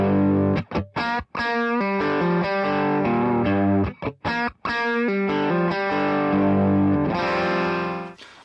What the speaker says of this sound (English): here's what that would sound like with the TONEX kind of Dumble style amp on one side and then the Tweed Deluxe on the other